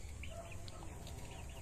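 Hen and rooster kept by a backyard poultry keeper in San Jose, Batangas, giving a few soft, faint clucks over a steady low background hum, with no talking.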